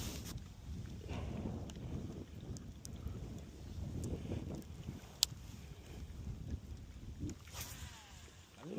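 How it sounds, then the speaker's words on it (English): Wind gusts buffet the microphone at Castaic Lake, a low, uneven rumbling roar that swells and fades throughout, with a few faint clicks and splashes over it. "Stupid wind."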